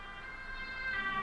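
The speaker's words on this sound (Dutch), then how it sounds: "En dan komt er opeens een ambulance bij mij aan." An ambulance siren in the driving game Driver San Francisco wails with a steady, fairly faint tone above a low engine and road rumble. No one talks.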